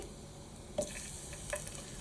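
A tempering of curry leaves and crushed garlic sizzles in hot oil in a pan: a steady, soft hiss of frying throughout, with a couple of faint stirring clinks.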